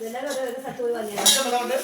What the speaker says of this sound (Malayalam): പാത്രം സ്റ്റീൽ പാത്രം